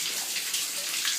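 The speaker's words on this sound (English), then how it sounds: "So this is the spring, spring, where everyone comes to fill up their bottles of water." Water runs steadily at a village spring on Andros, a continuous close splashing and trickling stream with no voices.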